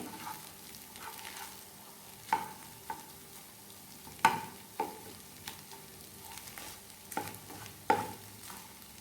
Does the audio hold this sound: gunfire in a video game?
no